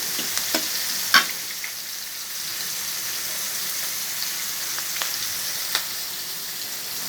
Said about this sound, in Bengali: ওদের জন্য পটল দিয়ে ইলিশ মাছ ভাজি